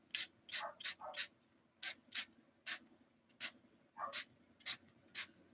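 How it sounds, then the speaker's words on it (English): Short hissing bursts from an aerosol spray paint can, about a dozen quick sprays in an uneven rhythm, fairly faint with quiet pauses between. "I'm going to spray them and I'm going to put the top on."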